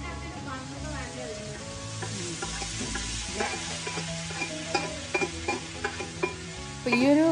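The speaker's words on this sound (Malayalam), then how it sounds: "കുക്കറിൽ നമ്മൾ വിസിലടിഞ്ഞിട്ടുള്ള ചിക്കൻ ജസ്റ്റ് ഒന്ന് ഇളക്കിയതിന് ശേഷം നമ്മൾക്ക് ഇതിലേക്ക് ഇട്ട് കൊടുക്കാം" Pressure-cooked chicken tipped into a hot kadai, sizzling loudly while a spatula stirs and scrapes in a steady rhythm, with a sharp metallic clatter near the end.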